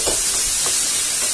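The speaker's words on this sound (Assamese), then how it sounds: "এইখিনি অকণমান ভাজি লওঁ" Fish ingredients fry in a hot pan with a steady, bright sizzle and hiss, heard close up with faint stirring and no talking.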